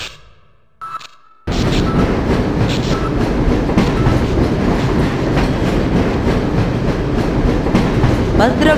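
A train in the video game Half-Life: Source starts up after a brief quiet moment, then runs with a loud, steady rumble and rhythmic clickety-clack that continues to the end.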